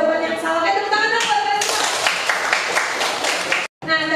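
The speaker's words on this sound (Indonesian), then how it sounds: "tepuk tangan dong" Students in a classroom clap their hands in a lively burst that swells midway and stops abruptly, with a voice speaking over the start and again after the clapping ends.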